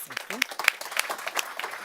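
Audience clapping for panelists at an AI summit event, sparse individual claps rising from a room, with a voice speaking over the start.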